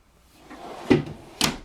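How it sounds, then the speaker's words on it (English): A plywood kitchen drawer on full-extension glides in a 2014 Coachmen Freedom Express RV slides and stops with two soft thuds about half a second apart, close by. "another one of these famous Coachmen drawers here in the kitchen"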